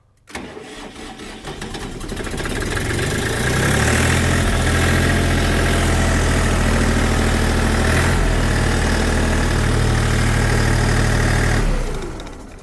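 A Xingtai XT244 mini tractor engine cranks and catches, then runs steadily at high revs with a loud, droning hum for several seconds before cutting off at the end.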